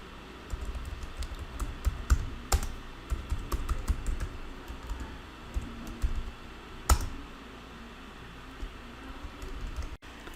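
Steady typing on a computer keyboard while entering code for a Flutter Hello World program, with close, uneven clusters of key clicks and a few louder strokes, no talking.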